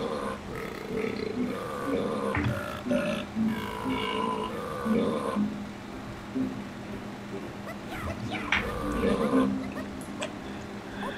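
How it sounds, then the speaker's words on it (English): Burp-like grunting and yipping noises from the game Donkey Kong 64, repeating in an uneven series over busy game audio. "I have no idea why they went with burps."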